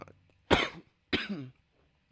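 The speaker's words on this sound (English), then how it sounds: "Don't mean to be coughing into the mic" Two sharp coughs close to the mic, about half a second apart, each trailing off quickly, with near silence around them.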